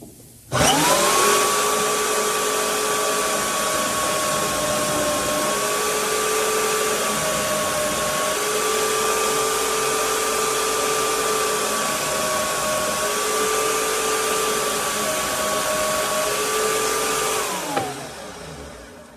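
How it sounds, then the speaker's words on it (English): A power tool cuts screw heads off a knife handle during a rust restoration, giving a loud, steady whirring whine that runs close and continuous for about seventeen seconds with slight pitch shifts before shutting off. "All that's left is to cut the screw heads off"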